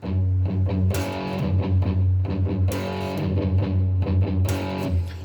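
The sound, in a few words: slow guitar gallop strumming rhythm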